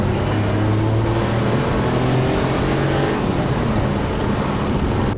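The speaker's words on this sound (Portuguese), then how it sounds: "Botando segunda aqui a 40 por hora, né? Pra vocês virem os giros altos aqui" A Renault Kwid engine revs high in second gear at about 40 km/h, a loud, continuous droning exhaust note with a low steady hum underneath, sustained without a break.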